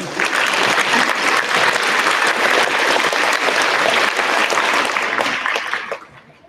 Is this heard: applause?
yes